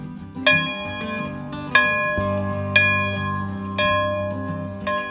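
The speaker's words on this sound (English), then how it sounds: "it's a little more church bell." Church bells ring out in slow strikes, five bright clangs roughly a second apart, each leaving a long humming decay that overlaps the next, moderately near with no voices.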